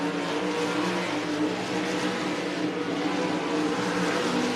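Race cars roar around a dirt track at El Paso County Raceway during a nighttime heat race, a dense, steady engine drone filling the air with no voices over it.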